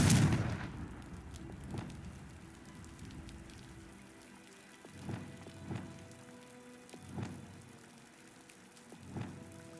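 Confringo blasting spell cast repeatedly in Hogwarts Legacy, a heavy burst at the start followed by a series of fiery impacts at roughly regular intervals over quiet ambience, with no talking.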